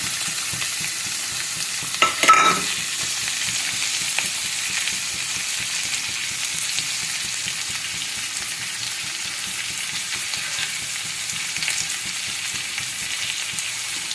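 Steady sizzling of cumin seeds and onions frying in hot desi ghee in a kadhai, with a brief clatter of stirring early on and no talking.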